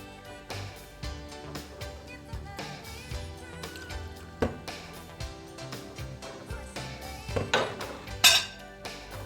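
A spoon scrapes and clinks against a metal pot while custard mixture is stirred, irregular knocks and taps close up, with a sharper clang near the end.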